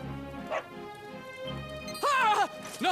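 Dog barks and yips in the Dragon Quest XI role-playing game, a few short bursts rising over a layer of game music, with a louder yelping pair near the end.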